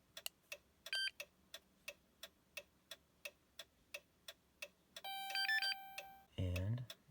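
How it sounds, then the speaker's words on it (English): A simple key programmer for a Chrysler Town & Country key fob ticks steadily about twice a second, broken by a short tonal beep, then a longer beep sequence and a low buzzing tone. "now that we've heard those beeps, our key is programmed"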